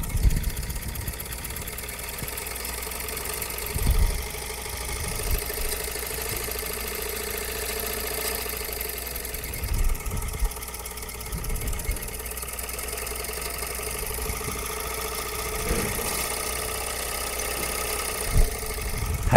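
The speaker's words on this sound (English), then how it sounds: "Listen to the engine." Small engine running during a physics lecture demonstration on self-induction: a steady mechanical idle hum with a rapid regular patter and occasional bumps and surges, heard alone without talk.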